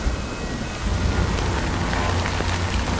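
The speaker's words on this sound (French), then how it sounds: "Du coup, la pluie elle commence à tomber." Steady rain pours in the video game Death Stranding, a dense broadband hiss with a low rumble underneath that swells slightly partway through and holds, with no voices.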